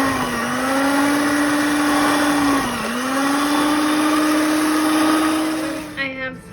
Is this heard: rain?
no